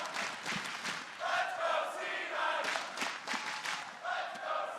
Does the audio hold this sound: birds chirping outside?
no